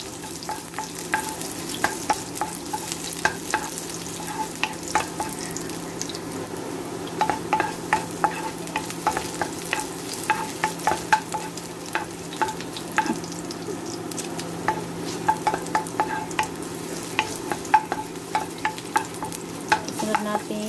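Garlic frying and being stirred in a pan for a chicken tinola, a steady sizzle with frequent scraping clicks of the utensil, close and continuous with no talking.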